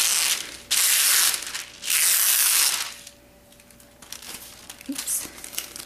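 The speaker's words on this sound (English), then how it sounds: "so I peel it up off." Wrinkled washi tape peeled up off a surface, two long loud crinkling, tearing bursts close by, followed by quieter rustling and small handling sounds.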